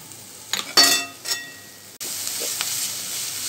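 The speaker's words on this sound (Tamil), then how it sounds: "நல்லா வதங்குற மாதிரி கிளறி தேருங்க." Ponnanganni greens being stirred as they fry in a pan: a spoon scrapes and clinks against the metal a few times over a soft sizzle, then a steady, louder frying hiss takes over.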